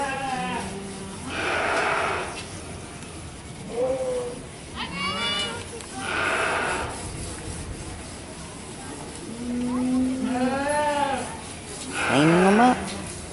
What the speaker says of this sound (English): All right, time to groom up the sheep.